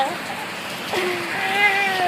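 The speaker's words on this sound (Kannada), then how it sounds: "ಮತ್ತೆ ರಪ್ಪ ಹೊಂಟದ್ರಿ ಮಳೆ" Heavy rain pours in a village as a steady, even hiss, with faint voices speaking over it.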